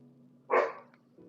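A single short, muffled dog bark sounds once, moderately loud against a quiet indoor background with a low steady hum.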